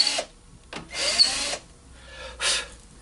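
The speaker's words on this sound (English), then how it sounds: "take our deburring tool, just a couple of revolutions, and it gets rid of that burr" A deburring tool is turned a couple of revolutions inside a valve guide bore in a Buick 264 Nailhead cylinder head, giving short scraping, rasping strokes separated by brief pauses.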